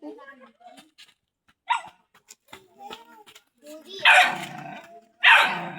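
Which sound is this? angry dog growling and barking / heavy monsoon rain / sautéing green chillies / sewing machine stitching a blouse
angry dog growling and barking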